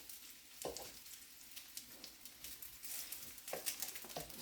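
Potatoes with salt and pepper frying in a pan, a steady close sizzle with crackling pops and occasional stirring scrapes, no voices.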